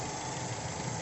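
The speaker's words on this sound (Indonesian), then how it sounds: "Untuk mesin halus" The 2.0 i-VTEC engine of a 2003 second-generation Honda CR-V with a manual gearbox idles smoothly at close range, giving a steady, even hum with no talk over it.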